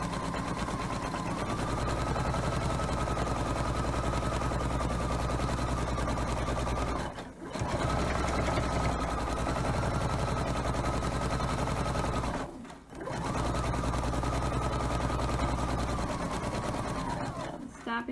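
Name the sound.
sewing machine stitching a memory pillow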